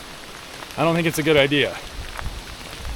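Steady patter of rain on a surface under a man's brief spoken remark, with the patter continuing faintly before and after the voice.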